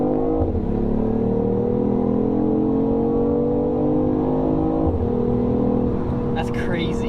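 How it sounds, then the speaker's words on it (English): Tuned BMW i8 at full throttle, a loud steady engine drone from inside the car that climbs in pitch, dips at two gear changes, and carries a turbo whistle, with people talking over it. "What do you think of that, hearing a turbo sound?"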